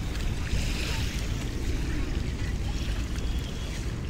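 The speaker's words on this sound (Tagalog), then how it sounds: "At dito tayo sa may Manila Bay, Dolomite Beach." Wind and gentle surf wash along Dolomite Beach on Manila Bay in hot sun, a continuous rumbling roar of wind buffeting the microphone over soft waves, with no voices.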